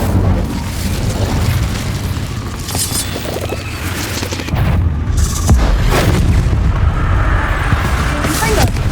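An Incendio fire spell in Hogwarts Legacy bursts into a loud, rumbling whoosh of flame over busy combat noise, swelling heavier partway through, with voices under it.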